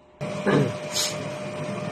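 A DTF printer machine starts up with a sudden mechanical whir, a steady hum with a tonal whine and a brief higher swish, running close by.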